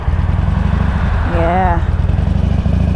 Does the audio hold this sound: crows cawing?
no